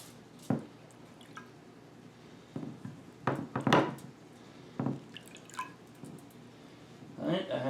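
An axe head lowered into water after bluing, with sparse drips, splashes and squishy wet handling noises in a quiet workshop, separated by pauses.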